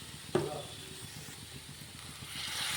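Vinegar poured into chowmein frying in a pan gives a sharp splash and then a soft, steady hiss that holds at a low level and swells slightly at the end.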